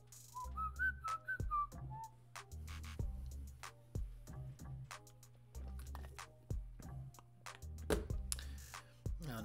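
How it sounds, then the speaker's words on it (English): A person whistles a song from memory with no music playing. The melody is clear and close, broken into short phrases with small ticks and mouth noises between them. "It's me whistling to a song without listening to it."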